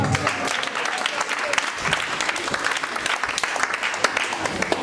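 Applause from a church congregation acclaiming the Lord during a French-language service, a steady dense clatter of many hands clapping at close range, sustained throughout with voices mixed in.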